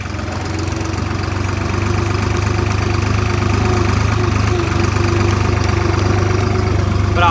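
A farm tractor's engine idles steadily and loud throughout, a low, constant diesel rumble with slight knocking, on a farm where a trolley is stuck in soft soil; nobody speaks.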